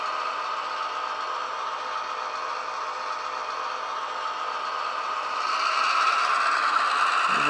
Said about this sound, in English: There you get to hear it notch up a bit at speed step 6.